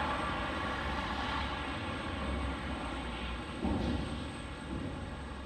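A heavily loaded passenger airliner arriving from San Juan at Detroit Metro airport produces a steady, moderately distant engine drone with a brief swell near the end and no speech.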